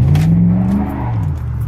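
An engine in an 88-95 GM fullsize truck (Silverado, Sierra, Suburban type) revs high, a loud close droning roar that rises and then eases off over under two seconds, alone without talk.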